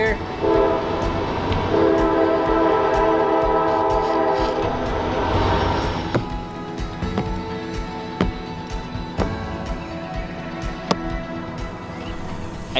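A passing train sounds a long, loud horn over heavy rolling rumble near a backyard construction spot, then the horn stops and the cars keep clattering past with sharp periodic clicks.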